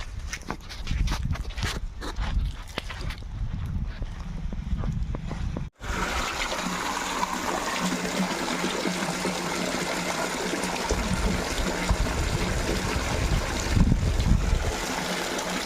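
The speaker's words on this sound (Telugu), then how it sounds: "వాటర్ ఇక్కడ లీక్ అవుతుంది" Water from a tanker pours onto a newly cast concrete house slab, a steady splashing trickle close by that gets fuller and louder halfway through and keeps running throughout.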